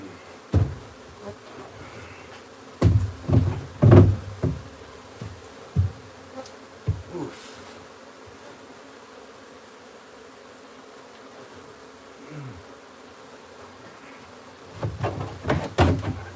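Honeybees from a wild beehive being moved into a new hive buzz on and off, with a few loud close passes near the start and end and quieter stretches between, plus faint handling knocks and no talking.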